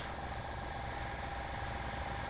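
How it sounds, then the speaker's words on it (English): An airbrush air compressor runs with a steady, dense hiss and a low motor drone, constant and close throughout with no pauses. "it's a nice sort of compressor sound"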